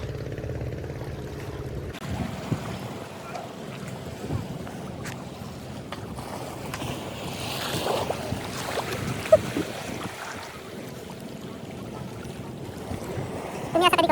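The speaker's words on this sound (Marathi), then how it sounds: "लाटा मारतात लाटा येत आहेत" Sea waves wash against Vengurla harbour on the Konkan coast, a steady close wash of water with wind noise and boat sounds running through, occasionally swelling louder.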